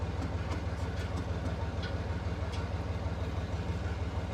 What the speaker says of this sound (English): My dad's got the tractor on.